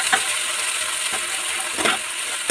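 Tomato purée and salt sautéing in a pan, a steady close sizzle with a few soft scrapes of stirring.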